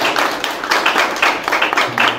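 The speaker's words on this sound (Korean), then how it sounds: "큰 박수로 환영해 주시기 바랍니다." An audience at a high school debate tournament in a hall claps loudly in steady, dense applause that runs the whole time, welcoming a debate team onto the stage.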